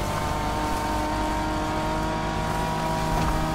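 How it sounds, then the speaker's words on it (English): Toyota Tacoma truck engine driving off-road in The Crew Motorfest racing game, a steady loud drone with a faint rev near the end and no talking. "So, a Toyota Tacoma. Great choice."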